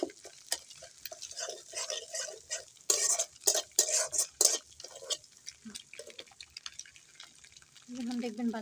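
Kalai greens with egg and onion are stir-fried in a pan, with rhythmic scraping stirs and soft sizzling in short bursts, close by, followed by a stretch of a voice talking.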